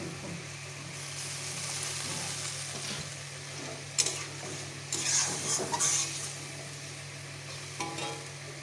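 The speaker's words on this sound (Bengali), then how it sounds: "আমি ভালো করে নেড়ে চেড়ে কষিয়ে নেবো।" Okra being stir-fried in a pan while cooking a Bengali dhyaras chorchori, giving a steady sizzle with stirring scrapes and a few sharper clinks, close and moderately loud.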